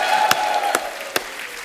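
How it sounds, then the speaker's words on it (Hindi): A studio audience applauds Kamal Haasan on a comedy show, a thin, steady patter of clapping with a few sharper claps standing out, heard alone. "जोरदार तालियां एक बार कमल सर के लिए।"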